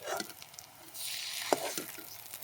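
A paste of ground cumin and coriander hits a hot frying pan while cooking chicken with potatoes, a soft, fairly quiet hiss that swells midway, with a few light knocks and stirring clicks.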